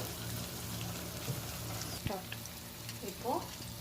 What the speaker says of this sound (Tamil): இஞ்சி பூண்டு பேஸ்ட் பச்சை வாசனை போகிற வரைக்கும் நல்லா வதக்கிக்கோங்க.